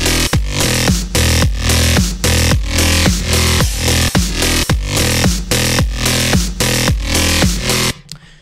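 Gritty electro bass synth patch built in Reason, a dirty buzzing tone pulsing in a steady rhythmic pattern of repeated notes with hard attacks, loud and up front with no voice, cutting off abruptly near the end.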